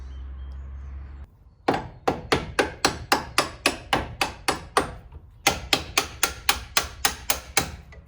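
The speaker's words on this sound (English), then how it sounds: "So I'm just gonna tap out these with a hammer from that side, just tap them through" Steel hammer tapping suspension bolts through on an EVO during a coilover install, a steady run of sharp metallic knocks, a brief pause, then another even series of close, loud taps.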